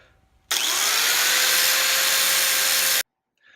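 Steady, loud whine of a power tool cutting into a steel knife blade, a single continuous burst about two and a half seconds long that starts and stops abruptly, close up and without speech.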